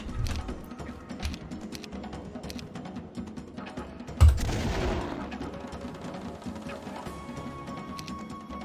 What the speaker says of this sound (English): Who will charge up for a nice explosion